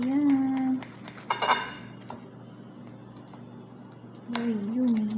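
A knife cuts into a syrup-topped cake on a plate, giving a few clinks and scrapes against the dish among steady room noise, with a voice speaking briefly at the start and end.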